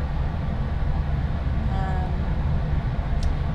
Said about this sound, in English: I'm riding a train.